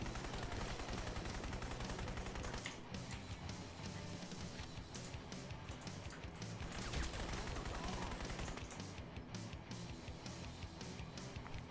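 Dense, continuous gunfire in the first-person shooter Crysis, New Blood mod: rapid automatic bursts mixed with sharper single shots and crashing impacts. It is loud and steady across the whole stretch, with no voices.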